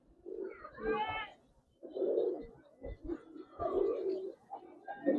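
Giribaz coloring sabchila racer pigeons coo in a loft, several soft rolling bursts close by separated by brief pauses, with faint voices in the background.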